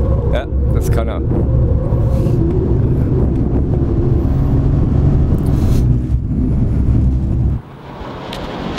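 Mercedes-AMG C 63 S on a race track, a steady loud engine drone and road rumble from inside the car with wind buffeting, easing off near the end while people talk over it.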